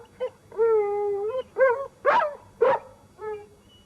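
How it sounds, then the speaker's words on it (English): A dog howls and whimpers at close range in a 1984 British mining-town home, setting off a drawn-out howl and then several shorter rising yelps and whines. "it's the buzzer that's making the dog howl"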